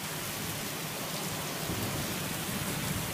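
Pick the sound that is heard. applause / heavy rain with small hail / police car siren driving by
heavy rain with small hail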